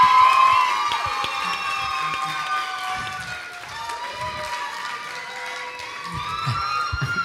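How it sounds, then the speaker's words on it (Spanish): A lively crowd cheers and shouts for contestant Dani Regalado on a second-season talent show, with high excited voices and scattered claps forming a continuous, fairly loud roar throughout. "recibimos con un fuerte aplauso"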